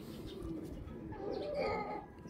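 Racing pigeons cooing softly in a loft, low murmuring coos at moderate distance with faint background noise and no talk.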